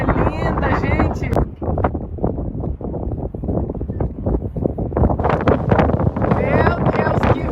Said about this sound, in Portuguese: Meu Deus, que vento lindo!